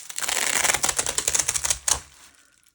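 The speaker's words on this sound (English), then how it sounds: "I want the bicycle. So I'm going to peel this off." A bicycle sticker peeled from its backing sheet in a traveler's notebook journaling session, giving a close, dense run of quick crackling ticks and rasps that ends in a sharp snap, then quiet.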